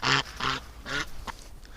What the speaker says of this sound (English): Alright, come here, little ducks.